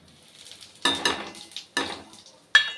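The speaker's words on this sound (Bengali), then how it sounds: "এবার আমি এর মধ্যে জিরে আর হিংটা আছে, ওটা আমি একসাথেই দিয়ে দেবো" Cumin and asafoetida hit hot oil beside fried paneer in a pan, giving sharp bursts of crackling sizzle that flare and fade in three to four waves, with light utensil clinks and no voice.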